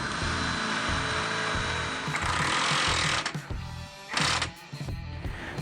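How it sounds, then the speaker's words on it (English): Ingersoll Rand W7152 20V cordless impact wrench driving a scissor jack, a loud sustained whirring buzz that runs steadily, stops briefly near the end, then gives a short final burst, with no talking. "These Ingersoll Rand cordless tools made short work of these scissor jack installation jobs."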